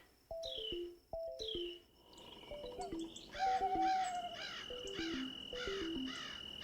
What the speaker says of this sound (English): Oh, there's a bird outside.